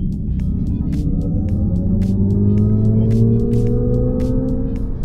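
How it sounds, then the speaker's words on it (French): Synthetic motor tone of an Alpine A290 electric car, produced by a Devialet sound system while driving: layered humming tones rise steadily in pitch over steady road rumble, continuous and fairly loud with no talk. "un bruit moteur artificiel qu'on a pendant la conduite"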